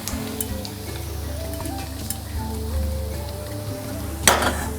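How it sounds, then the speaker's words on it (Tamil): Hot oil poured into the center of maida flour for spicy biscuits gives a soft, continuous sizzle and crackle. A low background hum runs underneath, and a brief louder burst comes near the end. "எண்ணெயை எடுத்து இந்த மாவில் நான் சென்டரில் ஊற்றிடுறேங்க"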